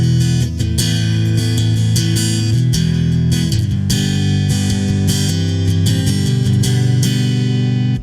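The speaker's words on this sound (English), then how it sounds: "And we have an acoustic guitar that's on board all the time." Acoustic guitar tone from an electric guitar's onboard acoustic pickup, strummed and picked chords ringing steadily and loudly for the whole stretch, with no talking.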